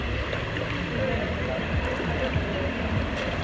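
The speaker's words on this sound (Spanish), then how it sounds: "Estamos en el río." River water flows in a steady, broad rush close by, with people talking over it.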